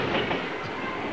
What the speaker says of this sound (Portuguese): Agora vamos ver se eu tenho que esperar o trem passar pra ver se abre.